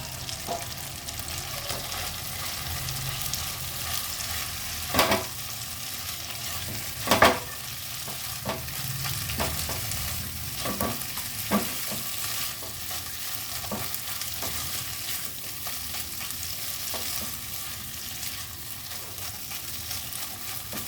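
Spices sauté in a pan for a pointed gourd and shrimp dish, a steady close sizzle broken by occasional scraping stirs and a few louder clanks.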